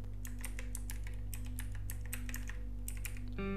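Rapid keystrokes on a computer keyboard while entering an Arch Linux install command, irregular clicks close and clear over a steady low hum, ending with a firmer key press.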